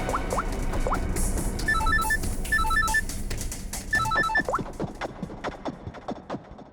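A phone rings in repeated short electronic bursts, three trilling groups against a busy background of clicks and knocks.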